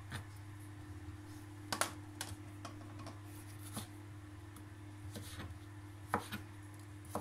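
Juicy garden tomatoes being finely sliced for kachumber salad: quiet, irregular knife taps on a board, spaced a second or so apart, over a steady low background hum.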